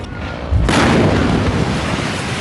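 A petrol tanker explodes with a sudden deep boom that swells into a loud, sustained rumbling roar, heard alone with no voices.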